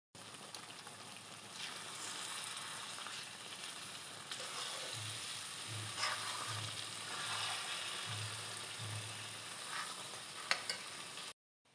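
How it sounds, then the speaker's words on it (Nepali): Fenugreek seeds frying in hot oil while preparing a lapsi pickle, a steady broadband sizzle running throughout with a few faint low thumps from the pan and no talk. "अब तेल तात्न लाग्यो। यो तातिसकेपछि चाहिँ अलिकति मेथी फुराउने"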